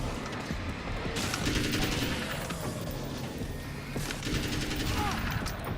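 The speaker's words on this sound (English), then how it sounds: "Oh, it's the grenades." Grenades go off in Alan Wake's American Nightmare, sending loud crackling bursts of explosive noise in two clusters over a dense, rumbling battle din.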